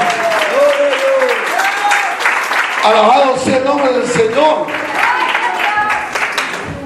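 Church congregation applauding the Lord during a Spanish-language sermon, steady clapping throughout under a preacher's voice speaking over it.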